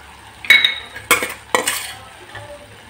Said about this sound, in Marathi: हे आता छानसं एकत्र करायचं आहे।